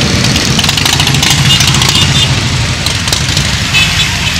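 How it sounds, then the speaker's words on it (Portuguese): Motorcycles arriving at a Bolsonaro motorcade rally in São Paulo, a loud steady rumble of idling and revving engines close by, with crowd noise and a voice in the background. "olha as motos chegando"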